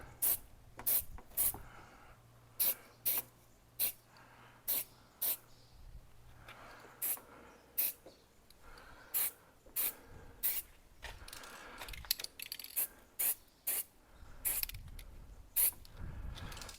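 A spray can releases about two dozen short, crisp hissing bursts in a loose rhythm while painting a Jaguar XKR rear brake caliper, quiet and close with no talk.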